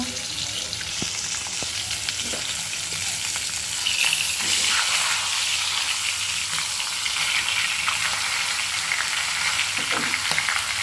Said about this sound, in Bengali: মাছ এক এক করে ভাইজে নিতেছি